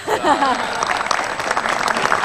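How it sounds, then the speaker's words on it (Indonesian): Studio audience clapping on a TV One talk show about a presidential election dispute, a steady dense wash of applause filling the room with a voice talking faintly over it. "Tepuk tangan nggak?"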